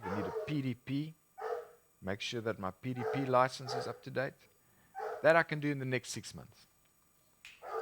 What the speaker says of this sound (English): that's just my dog greeting his neighbor